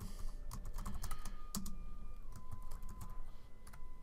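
Typing on a computer keyboard, a close, steady patter of key clicks with a few sharper strikes, heard alone.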